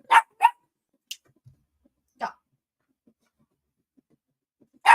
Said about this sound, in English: Hey, quit barking.